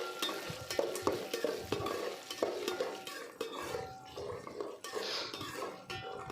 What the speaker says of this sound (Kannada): ಕರಿಬೇವು, ರೆಡ್ ಚಿಲ್ಲಿ, ಸ್ವಲ್ಪ ಹಿಂಗು ಹಾಕ್ಕೊಂಡು ಚೆನ್ನಾಗಿ ಫ್ರೈ ಮಾಡ್ಕೊಳ್ಳಿ